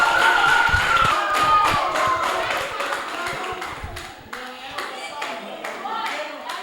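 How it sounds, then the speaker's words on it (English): Applause for a performer at a poetry slam semi-final, a crowd clapping steadily at close range with distinct sharp hand claps, loud at first and easing slightly, with a voice talking over it. "A round of applause for Yama once again."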